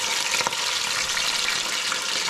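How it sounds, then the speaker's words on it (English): Sofrito tomato base sautéing in a pan for Puerto Rican rice, a steady close sizzle and hiss with a few faint clinks of stirring. "So here we're sauteing what's called the sofrito, but this is the tomato base."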